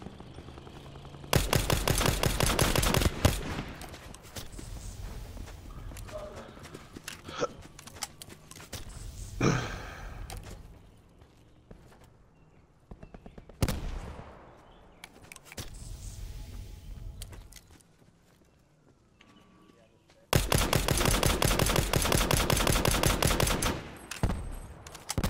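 Video game gunfire comes in two long, loud bursts of rapid automatic shots, with scattered single shots and engine-like noise in between. No one speaks.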